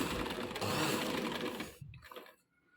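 A sewing machine runs a short seam on fabric while a round neck with a V placket is sewn, a loud, dense mechanical whirr for about two seconds that stops abruptly, followed by quiet handling noise.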